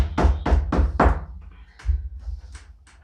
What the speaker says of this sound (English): Beth walks to the kitchen and we hear a knock at the door.